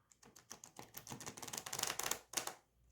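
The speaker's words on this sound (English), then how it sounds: "Riffle shuffling from the side." A tarot deck, the Jonasa Jaus Tarot 6th Edition, is riffle shuffled from the side, making quiet, rapid fluttering clicks in short bursts that pause briefly before a final flurry.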